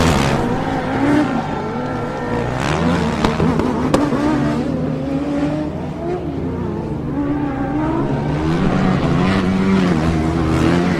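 A Formula Student race car works through tight horseshoe corners at an endurance event, its engine note rising and falling continuously under a commentator's voice, steady and fairly loud throughout.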